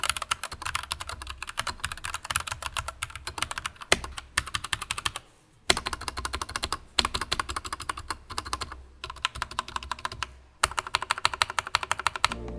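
Rapid, clacky typing on a mechanical keyboard, close up, in bursts of keystrokes separated by brief pauses.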